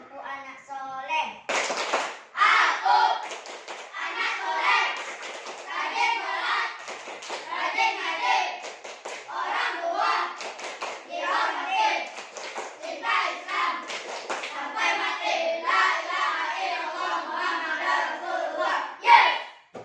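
A group of children clap and chant the rhythmic tepuk anak soleh routine in an Indonesian classroom, loud and close, with rapid bursts of hand claps mixed with their voices for the whole stretch.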